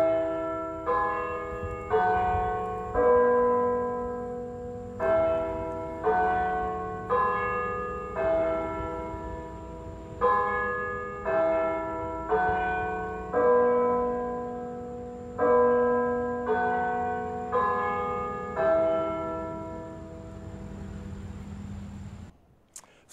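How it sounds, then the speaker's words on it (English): Bells of an electronic carillon ring out the Westminster chime melody in slow groups of four notes, clear and resonant, with each tone decaying before the next strikes. "I was stopped by the sound of Westminster quarters being rung"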